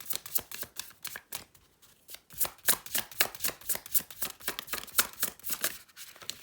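Astrology cards being shuffled, a rapid run of crisp riffling flicks in quick bursts with brief pauses, close and alone.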